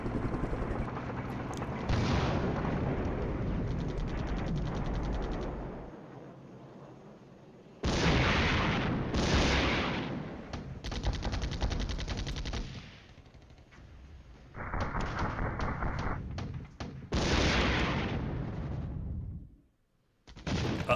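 Machine gun and artillery fire in a wargame set in Germany, with a modern armored and helicopter battle, rumbling in long loud stretches broken by short lulls and a near-silent gap near the end.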